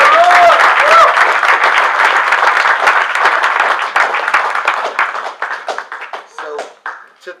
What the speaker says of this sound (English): So I think they deserve a big applause.